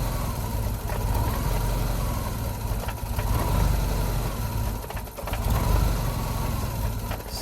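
Jeep Renix 2.5L four-cylinder idling unevenly, a steady low rumble with slight surges and dips in level, close by and without talk.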